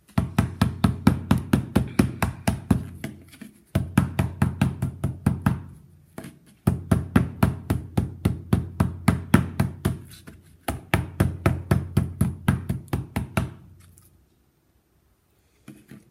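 Rapid, regular hammer blows thump on folded tinfoil with a dull metallic sound in four long runs, with brief pauses between, then quiet.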